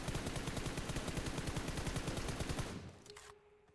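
Rapid automatic gunfire from a rifle in the video game PUBG Mobile, a dense unbroken burst of close, loud shots that cuts off near the end, leaving a brief quiet tail.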